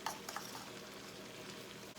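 Ginger and garlic sizzle quietly in a hot pan for chicken karahi, a soft steady frying hiss with a couple of faint clinks of a utensil near the start, no voices.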